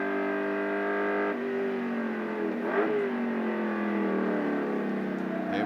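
Group A touring cars racing at Calder Park in 1985, including a Volvo, with a steady, loud engine drone whose pitch dips and rises through a corner, continuous and with no voices.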